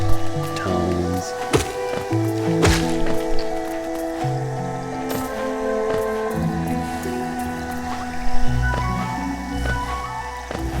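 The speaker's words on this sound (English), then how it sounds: "Let's just take a moment and take in this beautiful soundtrack." Hollow Knight's ambient game soundtrack plays as sustained, layered tonal drones and soft notes, with scattered splashy and dripping effects over it. It runs steadily at moderate loudness throughout.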